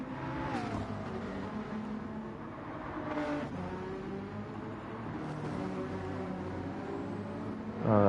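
Racing cars at the Bathurst 12 Hour endurance race, near a McLaren: a continuous layered engine drone with rising and falling revs as cars pass, steady and moderately loud, with a sharp swell at the very end.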